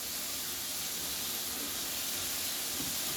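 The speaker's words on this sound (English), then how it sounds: "you're going to drop your onions in" Onions dropped onto a hot griddle with chopped beef patties sizzle in a steady, close, even hiss that runs without pause and without voices.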